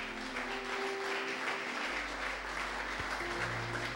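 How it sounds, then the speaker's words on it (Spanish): Steady applause from a congregation at a religious service, continuous and even over a low droning hum and sustained musical tones, with no pauses. "Démosle un aplauso al Eterno."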